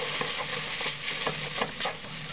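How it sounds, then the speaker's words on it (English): Ramen noodles and vegetables stirred in a hot pan, a steady sizzle with repeated scraping strokes of the utensil, close and fairly loud with no talking. "I'm going to stir this up a little bit. Kind of get those vegetables and all that mixed into the ramens."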